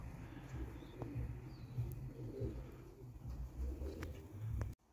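Pigeons coo steadily near a loft, a soft, continuous low murmur of overlapping calls running the whole time at moderate distance, with no one talking.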